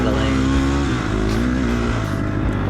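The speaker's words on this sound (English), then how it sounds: "blipping the throttle a lot, which on a 4-stroke" A four-stroke dirt bike engine growls close by during a two-hour hare scramble, the throttle blipped so the pitch rises and falls in quick surges over a steady rough drone.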